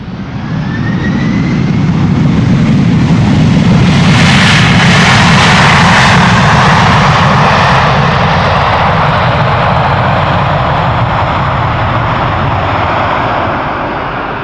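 A Boeing 747-400 cargo jet lands at Schiphol Airport, its engine roar loud and close as it swells to a broad peak and then slowly fades while the aircraft passes.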